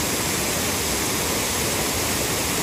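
Tirathgarh waterfall thunders with a loud, constant roar of falling water heard up close, steady and unbroken throughout.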